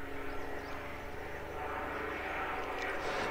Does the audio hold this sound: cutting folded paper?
no